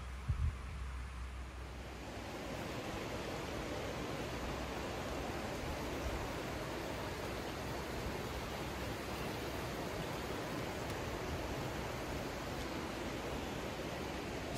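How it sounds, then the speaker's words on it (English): A mountain river runs steadily nearby in the morning, a constant even rush of flowing water with no other sounds over it. "Mountain air and the sound of a running river."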